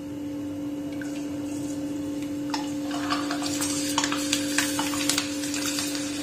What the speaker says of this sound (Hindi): तो हम दाल को धीरे धीरे करके डालेंगे,